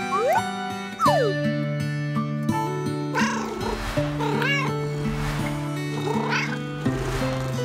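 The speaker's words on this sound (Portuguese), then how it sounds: "a Flecha é uma gata!" A female cat meows repeatedly in a home, a string of clear, close, rising-and-falling cries spread across the clip with short gaps between them, some drawn out and whiny, with no talking.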